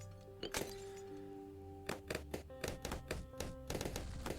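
A larger cannon fires in the tower defense game Bloons TD 6, giving sharp, punchy shots at irregular intervals, several in quick succession, over steady tonal game music.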